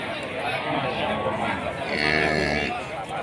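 Cattle at the Tuban cattle market in East Java, among them a tall PO bull, give a low drawn-out moo amid steady crowd chatter and nearby talking.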